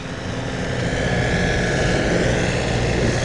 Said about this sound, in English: Louis Blanchette digging out with a snow blower